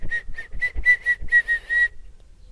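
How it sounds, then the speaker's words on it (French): Short, clear whistled notes follow one another in a quick, playful sequence before trailing off, close and unaccompanied by speech, in a children's cartoon about marmots in their burrow. "Les marmottes invitent Caramel dans leur terrier et lui apprennent à siffler."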